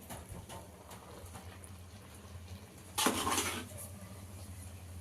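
Rice stirred in a pot on a stove set to low, soft scraping and clinking of a utensil against metal with a brief louder rattle midway, close and quiet.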